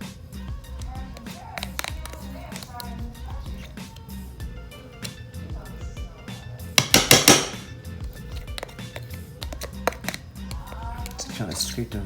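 Shortening scraped from a measuring cup into a bowl with a utensil, a few soft scrapes and sharp metallic clinks, with a brief louder clatter partway through, while a person talks over it.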